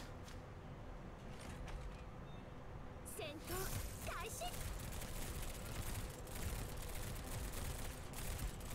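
Gunfire in the mobile game Girls Frontline, bursts of rapid shots mixed with game effects, fairly faint and dense over the whole stretch.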